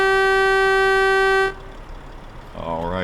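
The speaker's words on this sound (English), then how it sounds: "Let's listen to the horn." A truck horn in the video game Euro Truck Simulator 2 blares in one loud, steady blast for about a second and a half, then cuts off, leaving engine rumble and a rising tone.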